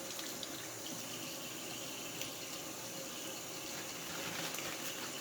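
A kitchen tap runs steadily over raw chicken wings being rinsed, a faint continuous splashing and hiss of water with no one speaking.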